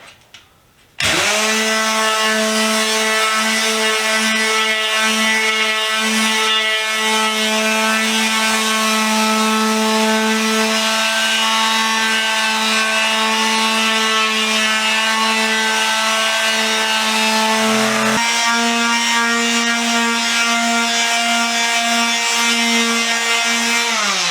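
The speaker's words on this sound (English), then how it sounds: "I'm gonna grab my sander." A power sander's motor whines loudly and steadily after a quick start while sanding a wooden mid-century modern coffee table, its pitch dropping slightly partway through and then holding constant.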